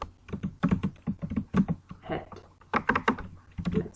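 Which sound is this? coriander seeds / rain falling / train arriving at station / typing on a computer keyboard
typing on a computer keyboard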